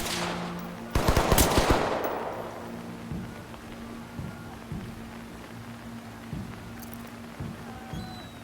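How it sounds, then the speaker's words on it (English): Gunfire in the tactical shooter Ready or Not: a sharp burst of rapid shots near the start, then scattered single reports echoing at a distance, with no talk. "Shots, but not at me."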